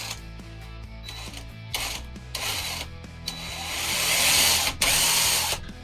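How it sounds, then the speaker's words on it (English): The 6-volt steering servo on a 1/10 scale RC crawler whirs and buzzes in short mechanical bursts up close, rising into a longer strained grinding run over a low background hum. "So the servo isn't the fastest one, but yeah, that's 6-volt servo."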